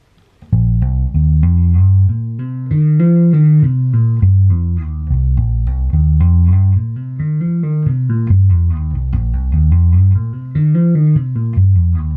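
Bass guitar playing an even, non-swung gospel fill with pulled and plucked notes, deep rolling lines moving up and down in a steady stream, loud and close with no talk.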